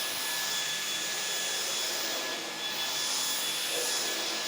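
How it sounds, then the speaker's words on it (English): A Dyson V10 cordless stick vacuum runs steadily with a loud, breathy whir as it picks up spilled soil from carpet, with no voices. "I'm gonna try to see how much I can get up with this Dyson vacuum cleaner."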